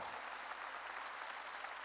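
A church congregation at a Korean worship service applauds steadily, a continuous even wash of many hands clapping, heard at a fairly low level and unbroken from start to finish.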